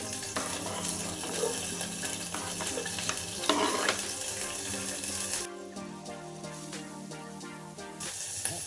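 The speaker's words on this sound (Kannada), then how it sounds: "ಒಂದು ಪಾತ್ರೆ ಇಟ್ಕೊಂಡು ಅದಕ್ಕೆ ಒಂದು ಸ್ವಲ್ಪ ಎಣ್ಣೆ ಹಾಕೋಬೇಕು. ಆಮೇಲೆ ಇದಕ್ಕೇನೆ ಬೆಳ್ಳುಳ್ಳಿ, ಆಮೇಲೆ ಮೆಣಸಿನ್ಕಾಯಿ" Garlic and green chillies fry and are stirred in oil in a cooking pot, a loud continuous sizzle with scraping stir sounds that softens partway through under background music, with no talking.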